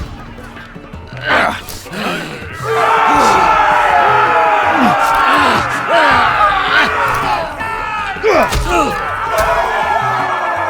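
Arena crowd in the Game of Thrones video game roaring and cheering, a loud sustained swell of many voices with a few thuds and shouts on top.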